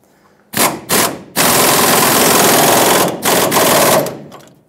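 Rapid bursts of an impact wrench tightening bolts on the rear leaf spring shackles of a 2008-2010 Ford F-250 Super Duty: two short rattling bursts, then a long loud hammering run and a few shorter bursts, close up.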